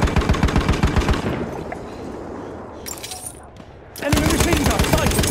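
Rapid bursts of machine gun fire in Battlefield 1 rattle loudly at the start, drop away into a quieter stretch, then return as dense, close automatic fire with sharp high crackle.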